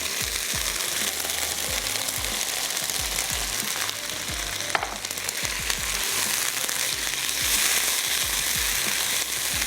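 Cooked, sliced beef fries in a karahi for a Shinwari karahi, with a steady, dense sizzle and repeated low thumps and scrapes of stirring throughout, with no talking.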